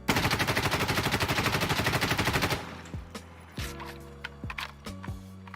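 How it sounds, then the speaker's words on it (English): A G36 rifle fired without a foregrip in Insurgency: Sandstorm lets off a loud, continuous automatic burst for about two and a half seconds, then falls away to a few scattered clicks and softer trailing impacts. "we're going to shoot with the G36, no foregrip, and again compensate for all recoil"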